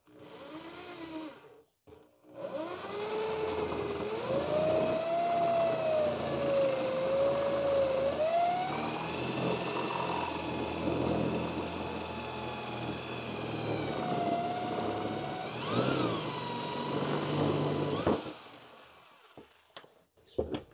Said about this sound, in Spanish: Lo hago con taladro